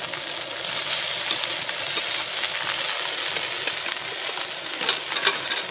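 Steady sizzling of fried rice with carrots, raisins and cashews in a pan, with a spatula scraping and stirring throughout; no talking.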